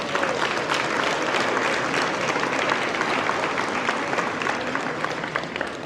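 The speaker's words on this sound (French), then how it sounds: "Je pense qu'il mériterait une bonne main d'applaudissements aussi." At an agricultural hall of fame banquet in Quebec, a crowd gives dense, sustained applause that holds steady and loud throughout, with a faint murmur of voices underneath.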